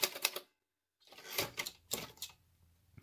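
Typing on a Sperry Rand Remington Streamliner typewriter, close and crisp: a quick burst of key strikes, a short pause, then a series of clacking keystrokes and carriage noises.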